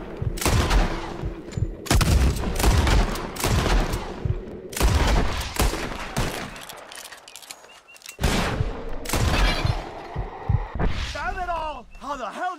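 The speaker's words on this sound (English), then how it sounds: "Whoever shoots more of these bottles wins. Just draw" Revolver shots fired at bottles in a Red Dead Redemption 2 bottle-shooting contest, a run of loud, sharp cracks in quick bursts with brief pauses between, with a voice speaking over the shooting.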